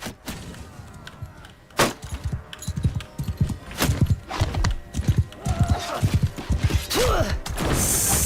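Repeated hoof clip-clops from a galloping horse in a busy Mount & Blade II: Bannerlord siege scene in snow, with sharp impact crashes and a brief whinny near the end, loud throughout.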